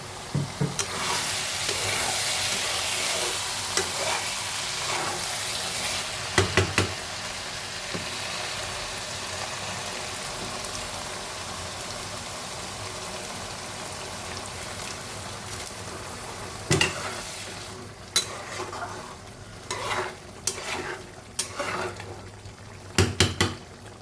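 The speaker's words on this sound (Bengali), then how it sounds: "আমি এর ভিতরে এখন গরম জল ঢেলে দশ মিনিট ফুটিয়ে নেবো" Mutton mince with hot water poured in bubbles and sizzles in a pan, a steady wet hiss broken by scraping stirs and clinks of utensil against metal that grow more frequent toward the end, without speech.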